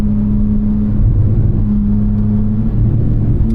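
A manual 2023 BMW M3 G80 driven on throttle, its engine giving a loud, steady low drone with a constant tonal hum from inside the cabin, the pitch shifting slightly as it pulls.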